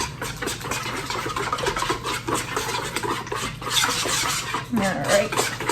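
Ingredients, including oil, sweetener and yeast, are stirred together in a bowl. The scraping and clinking of a utensil against the bowl stays steady and fairly close for the whole stretch, with no talking.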